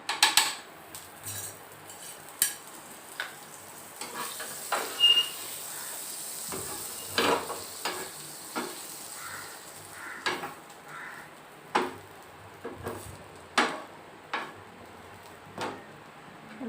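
A street-style grilled sandwich toasts with butter on a tawa griddle, pressed down by hand, giving a faint steady sizzle broken by scattered sharp spatula clicks and taps.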